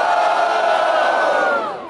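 A crowd at a rap battle cheering loudly, a sustained roar of voices and shouts that swells and then fades toward the end.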